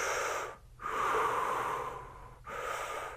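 Slow, deep breaths during a floor core exercise, one long airy exhale and inhale cycle after another, close and soft with brief pauses between.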